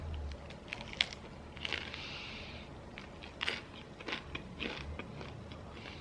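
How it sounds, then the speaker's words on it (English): Close, crisp crunching bites into crusty bread, a few sharp crackling bursts followed by chewing, with no talking. "Do you hear that crunch?"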